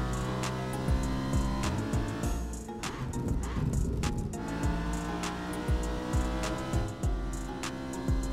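A car is driven at night in the racing game Assetto Corsa, with engine revs rising and falling, gear changes and brief tire squeals. The sound is steady and moderately loud throughout, with no talk.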